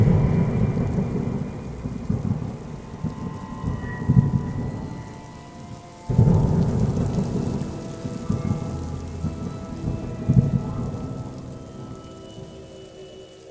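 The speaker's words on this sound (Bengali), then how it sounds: "রাজু, বৃষ্টি শুরু হয়ে গেছে।" A thunderstorm over a small village house: steady heavy rain pours down with low rumbles of thunder, and a louder thunder surge swells midway before the downpour carries on. No voices.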